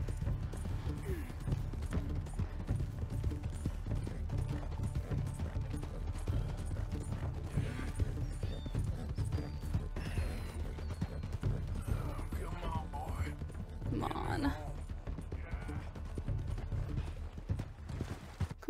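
Horse hooves clop and gallop in the Red Dead Redemption 2 video game, a quiet rhythmic beat under a rumbling game backdrop, with occasional faint whinnies and other game sounds mixed in.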